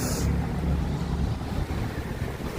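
Steady, loud wind buffeting the microphone throughout on a winter night street in Toronto, a low roaring rumble with gusty texture and no talking.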